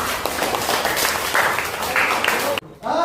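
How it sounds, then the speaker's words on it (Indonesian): Students clapping in a classroom, a short burst of dense applause under some talking, ending abruptly before a voice speaks. "Tepuk tangan untuk kalian semua"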